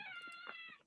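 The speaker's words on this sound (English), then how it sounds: "Oh, I thought that was my cat." A domestic cat gives a single drawn-out meow, a clear tonal cry that rises and falls over about a second, faint and on its own with no talk.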